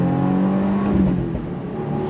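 A 2024 Subaru WRX TR engine accelerating hard in first gear from 3,000 RPM, a loud continuous revving drone with rising pitch heard from inside the car.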